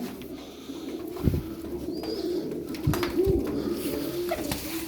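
Tumbler pigeons coo in a low, soft, repeated rumble close by, with a few brief sharper calls and faint bird chirps overhead, steady throughout.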